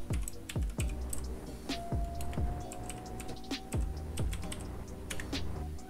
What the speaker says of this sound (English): You have to type your email.